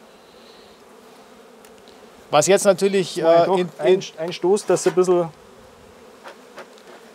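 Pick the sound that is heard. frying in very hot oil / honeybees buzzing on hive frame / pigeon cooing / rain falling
honeybees buzzing on hive frame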